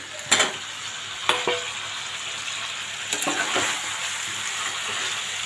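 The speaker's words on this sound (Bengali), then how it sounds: "আলুগুলো দিয়ে দিই।" Potatoes frying in a pan give a continuous close sizzle, broken by a few clattering knocks of a utensil stirring against the pan, with no voices.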